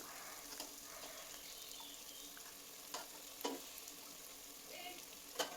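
Boiled mutton pieces frying in oil and masala, a faint continuous sizzle broken by a few sharp stirring scrapes and taps of a spoon.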